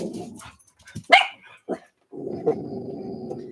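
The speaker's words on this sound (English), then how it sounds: "There's a dog walking by, and my dogs want to participate in the recording." Several dogs bark in sharp, scattered bursts at a dog walking by, then settle into a lower, continuous growling whine, fairly close and loud.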